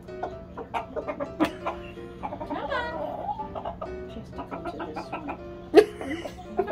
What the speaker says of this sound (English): Very particular chicken.